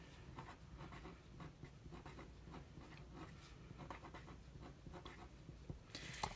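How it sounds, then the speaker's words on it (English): Pen writing on paper in a notebook, quiet scratchy strokes in short irregular bursts, close and faint, with no talking. "So I'm just going to write what monthly minimum"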